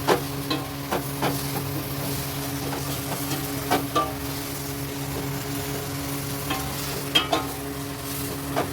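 Chopped onions frying in a pan while being stirred, a steady low sizzle running throughout with occasional sharper clicks from the spoon.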